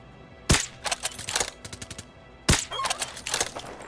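Gunshots in Call of Duty Modern Warfare 2 Remastered: two sharp, loud reports about two seconds apart, each followed by a quick string of smaller cracks and clattering echoes, close by with no speech.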